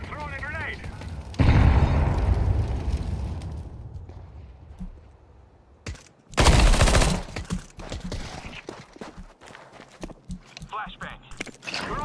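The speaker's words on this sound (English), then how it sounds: "I'm throwing a grenade." Grenade blast in a tactical shooter video game, a loud booming burst that swells and rolls off, with gunfire and footsteps around it and a voice talking between.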